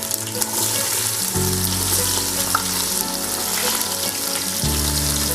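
Sliced onions fry in hot oil in a dabara pot, a loud, steady sizzle and crackle with occasional stirring scrapes, close by and alone without any talk.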